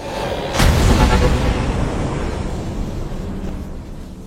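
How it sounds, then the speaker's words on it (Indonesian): A loud, deep film explosion destroying an aircraft carrier bursts out and then rumbles on, a roaring boom that slowly fades into a long low wash of noise. "Ledakan yang dihasilkan ternyata berhasil menghancurkan kapal induk"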